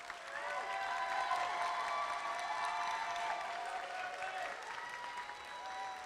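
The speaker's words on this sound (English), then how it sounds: "Please join me in a round of applause for our outstanding Freshman of the Year." Audience at a student awards ceremony giving a steady round of applause, dense clapping that holds at an even level for about six seconds and is heard alone.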